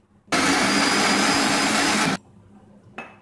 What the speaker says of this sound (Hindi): अब मैं इसको दोबारा से हल्का सा अभी for a few second blend करूंगी